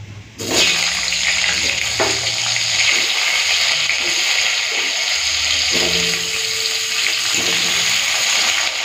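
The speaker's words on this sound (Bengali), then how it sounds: "এই তেলে আমি আলুটা ভেজে নিয়ে আগে, তারপরে ফুলকপিটা ভাজবো।" Potatoes drop into hot oil and burst into a loud, gushing sizzle after a brief quiet start, then keep frying steadily with occasional stirring knocks; no voices.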